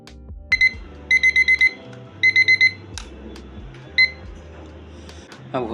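A study timer alarm rings after a two-hour session, giving bursts of rapid high electronic beeps in groups of four, then a single short beep, loud and close over low background thumps.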